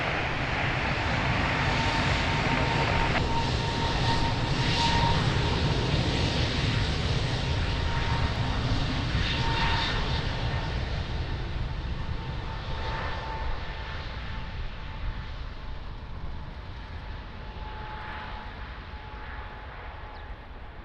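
An airliner takes off from runway 02 at Lisbon Airport, its jet engines a loud, broad roar that peaks early, then slowly fades as the aircraft climbs away, with a faint steady whine.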